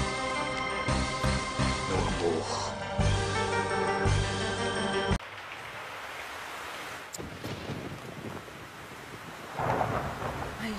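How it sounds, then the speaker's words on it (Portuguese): Thunderstorm with rolling thunder and steady rain, first heard beneath loud music that cuts off midway, then alone as a broad rumbling wash with louder thunder swells near the end. "está começando a cair uma tempestade"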